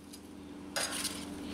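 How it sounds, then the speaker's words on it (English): A metal spider strainer moves a low country boil from a pot into a big pan in an indoor kitchen, with a soft bubbling background and then a burst of clinking, splashing scrapes close by. "I'm using a spider strainer to put the goodies into a big pan"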